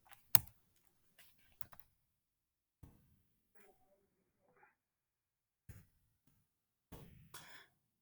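Values are typed on a computer keyboard during a math lesson, producing scattered, faint clicks and key taps with pauses between them, heard up close in a quiet room.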